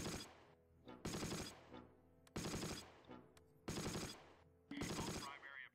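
Bursts of machine gun fire in the WWII strategy game Close Combat: The Longest Day, five short, sharp volleys at steady intervals, fairly quiet overall and with no talk over them.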